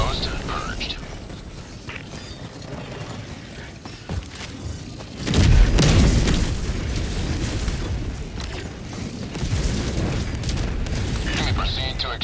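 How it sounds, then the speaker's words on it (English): Orbital barrage explosions in the Helldivers 2 video game: a deep, heavy boom erupts midway and becomes sustained rumbling blasts and bursts, with talk and game noise around it. "Firing orbital barrage"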